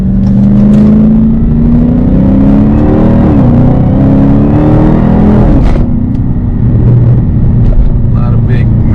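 A Dodge Challenger Hellcat V8 of over 700 horsepower accelerates hard, its loud engine note climbing steadily in pitch through repeated gear pulls, heard from inside the car with road noise throughout.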